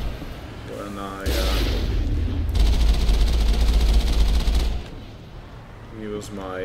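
A heavy anti-tank weapon blast in the Mass Effect video game booms out loud and sustained, a deep rumbling explosion roaring for several seconds, with a voice talking over the quieter stretches before and after.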